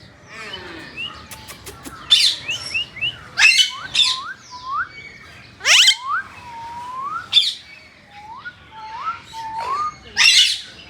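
A female Alexandrine parakeet gives a series of sharp, rising squawks and chirps, loud and close, in irregular bursts with short pauses between calls.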